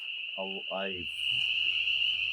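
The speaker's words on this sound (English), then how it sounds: "These crickets are absolutely deafening right now. And it's also frogs." Loud crickets at night in the woods ring as one constant high, steady trill, while a low, brief call and faint lower croaks briefly rise beneath it.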